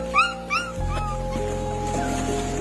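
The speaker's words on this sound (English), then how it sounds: "A desperate mama dog was begging passersby to help her" A mother dog gives two quick, high whimpers close by, followed by a steady background drone of music.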